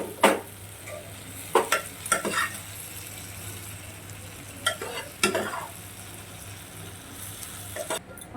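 Rice is stirred into vegetables cooking in a pan for a paneer rice dish, with soft sizzling under scattered spoon scrapes and clinks against the pan.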